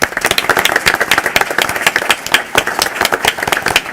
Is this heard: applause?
yes